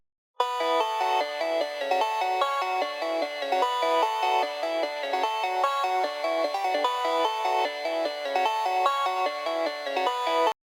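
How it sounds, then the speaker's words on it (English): A bouncy synth pluck from Spire with slight distortion plays a steady, fast melodic pattern of short bright notes for about ten seconds, clean and upfront with no voices. "first thing I laid down was this pluck from Spire"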